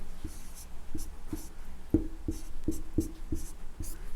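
Chalk tapping and scratching across a classroom board as a Hindi word is written, about eight short knocks at an uneven pace, close and fairly clear, with no talking.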